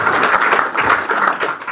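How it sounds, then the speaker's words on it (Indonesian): A church congregation breaks into lively applause for God, dense clapping rising and falling slightly in close, loud bursts with no talking over it. "Tepuk tangan yang paling meriah buat Tuhan"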